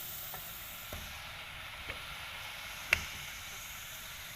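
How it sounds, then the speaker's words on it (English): Chicken frying in a home kitchen pan for fried rice, a steady soft sizzle with a few faint clicks and taps from stirring, one sharper knock near the end, no talking. "We cook chicken first"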